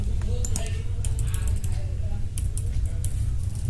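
Fingers type on a computer keyboard in a steady run of close, quick keystrokes over a constant low background hum.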